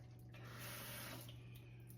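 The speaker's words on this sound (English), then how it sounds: "I'm gonna fill it with a little water" Tap water runs into a small food steamer in a kitchen, a brief, soft rushing splash over a low background hum.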